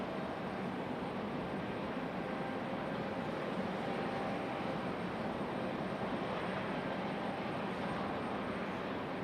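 Airbus A220 airliner at Raleigh Durham airport, a steady distant jet engine roar holding at an even level throughout with no talk.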